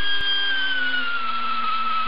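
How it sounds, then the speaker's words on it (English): Grinder whining steadily up close as it grinds out a weld on car floor sheet metal of a 1976 Mazda RX-5 Cosmo, its pitch sagging slightly under load. "So now I just have to grind out the weld."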